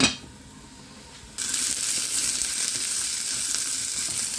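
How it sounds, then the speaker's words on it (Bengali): Onions frying in a pan for a traditional Bengali fish curry: a steady, loud sizzle that bursts in after a quiet start and holds evenly to the end, close by, with no talk. "পেঁয়াজ হয়ে গেছে আমার, একটু ভাজা।"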